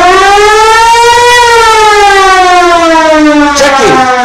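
A noisy siren doorbell in Lake Havasu wails loud and close in one continuous rising and falling tone that drops in pitch near the end, with a brief clatter underneath.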